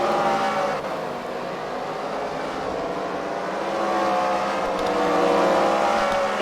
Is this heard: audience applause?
no